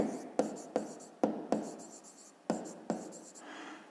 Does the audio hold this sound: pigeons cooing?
no